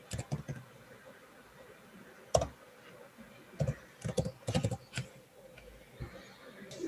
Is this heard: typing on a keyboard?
yes